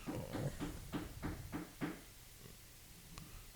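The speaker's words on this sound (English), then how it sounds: "I think that was the door." A door somewhere in a house gives a series of about seven quick, faint thuds or knocks in a steady rhythm, followed by quieter shuffling, with no talking.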